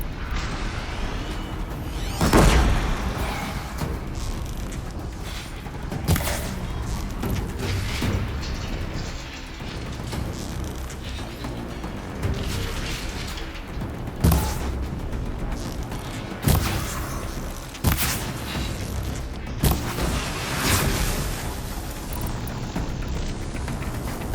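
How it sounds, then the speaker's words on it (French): Explosions and mechanical clanks sound in the video game Horizon Zero Dawn Remastered, with several sharp booms scattered over a continuous rumbling, machine-like backdrop. "Une explosion."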